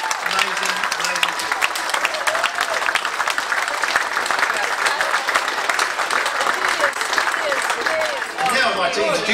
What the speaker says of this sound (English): let's all give them all a round of applause for what they've done for us